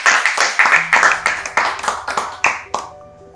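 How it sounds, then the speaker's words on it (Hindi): A small group claps for voice artists at an informal chat session, a few loose rhythmic bursts of close hand claps with sharp individual slaps, slowing and tapering off, with some talk under it. "फुल पावर आर्टिस्टों के लिए ताली बजाएं।"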